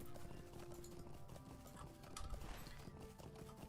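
A goat mount in the game LOTRO trots with steady rhythmic hoofbeats over a continuous bed of game ambience and music, moderately close, with no speech.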